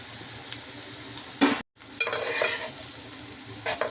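Sliced onions and five slit green chillies sizzle and crackle in hot oil in a pan for a Telugu bitter gourd masala gravy, with steady frying hiss, scraping stirs that swell the sound and one brief dropout midway.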